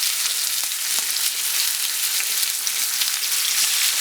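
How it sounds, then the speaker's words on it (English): Pork chops seasoned with salt and pepper sizzle steadily in hot vegetable oil in a pan, a dense, even crackle with small pops running throughout and no talk. "I'm going to add some vegetable oil to the pan. I'm going to add my pork chops."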